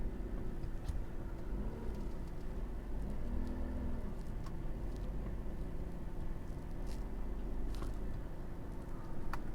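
A 2020 Chevrolet Silverado 3500 pickup towing a trailer through a tight turn gives off a faint, steady engine hum and low rumble, with a few light clicks and creaks scattered on top.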